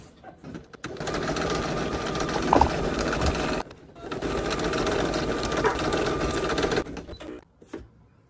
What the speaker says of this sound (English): next it's going to stitch the horizontal lines on the embroidery side only